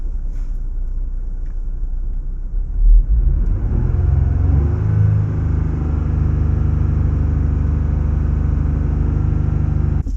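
A Jeep Gladiator engine held stationary at 3,000 RPM rises from a low idle rumble into a steady, droning hum that stays constant and close, heard from inside the vehicle with no talking.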